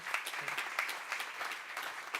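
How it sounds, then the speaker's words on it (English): Warm applause from an audience at a live event, moderately near clapping with distinct hand claps, steady through the short stretch. "Maybe you would like to give him another warm applause."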